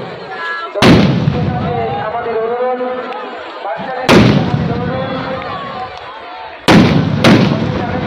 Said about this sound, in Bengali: তো শুরু হয়ে গিয়েছে আতশবাজি ফাটানো।